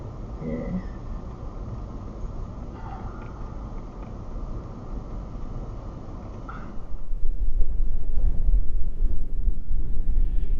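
Steady wind buffets the microphone at the Lake Eyre car park, a low rumbling roar that thickens and grows louder in the last few seconds.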